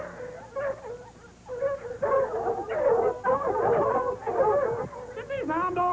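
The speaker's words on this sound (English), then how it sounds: "Get these hound dogs out of here." Hound dogs at a gathering in a 1938 Western film howl and yip in overlapping bursts, ending in rising, wavering howls, with people talking over them.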